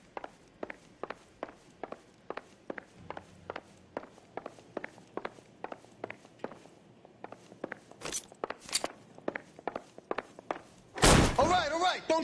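Door slamming open in LA Noire after a steady run of hurried footsteps; two sharp bangs come near the end, followed by a loud, crashing burst, with no talk over it.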